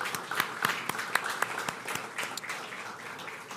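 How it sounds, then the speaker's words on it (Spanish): Church congregation giving a standing round of applause for the women, heard as a modest, uneven patter of claps, somewhat distant and not especially dense, lasting a few seconds. "le damos un aplauso a esas mujeres valiosas"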